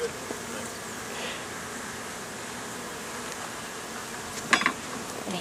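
Honeybees hum steadily around an open hive during a summer beekeeping inspection, a soft, continuous drone with no talking and a brief clatter near the end.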